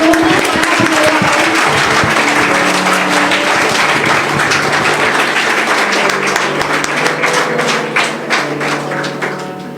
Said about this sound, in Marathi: टाळ्या वाजवा जरा जोरात.